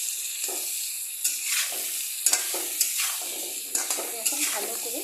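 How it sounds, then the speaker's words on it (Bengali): Cauliflower with ground cumin is stir-fried in a pan, giving a soft continuous sizzle broken by repeated scraping stirs and light clinks of a spatula, close by. "এখন ভালো করে কষিয়ে নেব।"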